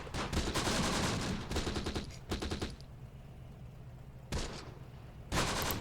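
Bursts of automatic gunfire from the World War II strategy game Close Combat: The Bloody First, several rapid volleys separated by short pauses and quieter gaps, loud and close with no voices.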